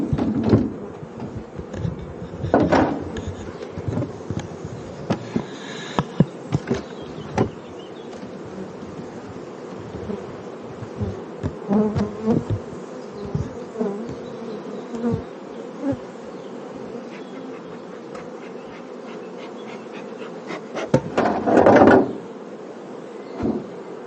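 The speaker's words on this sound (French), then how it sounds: "Ça doit être une ruche qui doit être assez forte." Honey bees buzz steadily around a strong hive, a dense close drone with individual insects swelling louder as they pass near, plus a few scattered knocks and clicks from handling the frames; no one talks.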